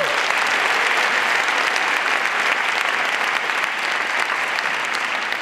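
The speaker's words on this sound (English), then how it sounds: "so give them a big round of applause for that." Steady, dense applause from a large audience at a summit fills the whole stretch at even, loud volume, with no voices standing out.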